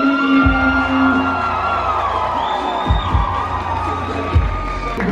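Wedding guests cheer, shout and clap loudly for the newlyweds' grand entrance at a reception, a dense crowd roar layered over pounding bass beats from the DJ's music.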